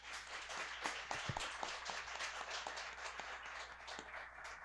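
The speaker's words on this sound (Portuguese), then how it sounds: "Eu gostaria que a igreja aplaudisse o irmão Antônio e o irmão Gaúcho, nesse momento." Church congregation applauding during an anniversary service, a steady, fairly faint wash of many hands clapping in a large room, continuous throughout with scattered sharper claps.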